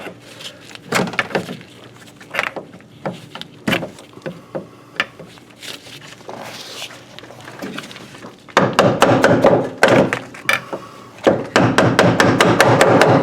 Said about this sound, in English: Sometimes you need to finagle it out with a hammer too.